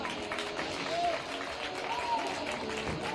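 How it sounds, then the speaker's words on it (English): Fans at a hockey game cheer and applaud as a player goes to the penalty box, a broad distant crowd roar held at a steady level under talk, with a couple of faint whistles. "our fans cheer when somebody else gets in the penalty box"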